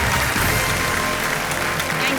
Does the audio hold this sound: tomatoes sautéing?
no